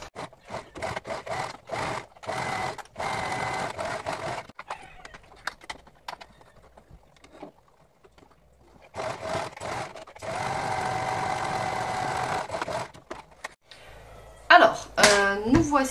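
Sewing machine running straight and zigzag stitches along the side seams of a drawstring laundry bag, in two sustained bursts of whirring with short pauses between them, close and fairly loud.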